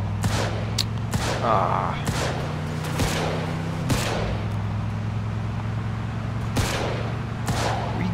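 Scattered gunshots ring out in a 1940s-era mob shootout from Mafia II Remastered, several sharp separate cracks spaced seconds apart over a low steady engine drone, with a brief vocal exclamation.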